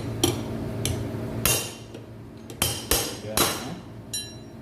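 Hammer striking a chisel to knock bearings out of a window air conditioner, several sharp metallic blows spaced irregularly, loud and close, with faint talk in the background.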